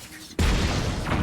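A single heavy cannon blast in Zelda: Tears of the Kingdom, a sudden loud boom followed by a rumbling, fading roar.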